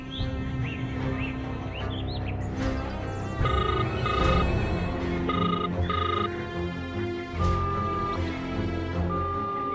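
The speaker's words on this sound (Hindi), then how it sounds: "फोन नहीं उठा रहा" An unanswered phone call rings repeatedly in a steady electronic ringtone pattern, with bird-like chirping tones over a busy background and no talk.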